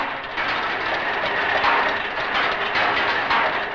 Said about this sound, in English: a mechanical extravaganza that produces nothing except noise